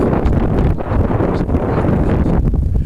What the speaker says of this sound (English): It's awfully windy and makes testing very difficult.